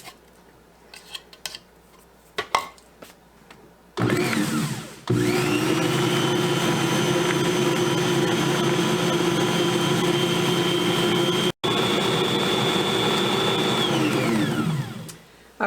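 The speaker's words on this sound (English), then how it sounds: "I've got 2 sticks of butter in my mixer, and I'm going to add to that 2 cups of brown sugar" An electric stand mixer creaming two sticks of butter with brown sugar, starting after a few clinks and then running as a loud, steady whirring drone that winds down near the end.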